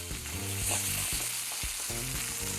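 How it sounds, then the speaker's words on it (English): Steak sears in hot oil in a pan while being basted, a continuous loud sizzle and crackle with brief scraping and spooning bursts, close up and with no talking. "I like to baste this a little bit with the oil."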